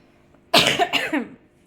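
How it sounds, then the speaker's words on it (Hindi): A single harsh, close cough bursts out and rasps for under a second before stopping, with no talking around it. "यार ये खांसी मेरे को जान ले लेगी मेरी।"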